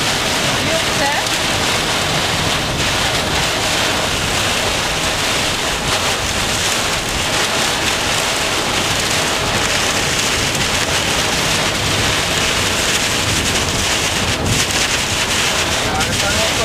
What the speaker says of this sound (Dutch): Volgens mij waait het buiten.